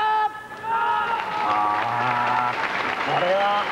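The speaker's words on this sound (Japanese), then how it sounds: "思わず拍手が出ましたね" Applause and crowd noise swell steadily over music at a karate championship, with a commentator's voice talking over it.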